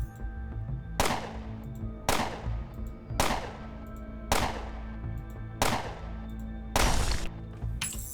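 Six heavy gunshots ring out in Underrail, evenly spaced about a second apart, each a loud, sharp crack with a short decaying tail, with no talking over them.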